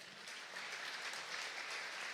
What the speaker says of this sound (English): Give a welcome applause to everybody